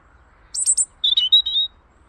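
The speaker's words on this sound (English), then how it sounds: "Such a sweet bird." A robin gives a short, high, clear chirp phrase of a few quick notes, close and crisp against a quiet background.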